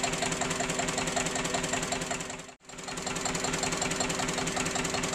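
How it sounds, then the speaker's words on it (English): A steady single-cylinder Listeroid engine with an axial flux alternator thumps along on vegetable oil, loud and close, with a fast even knocking rhythm that dips briefly to near silence midway before resuming. "here you have the engine running on vegetable oil"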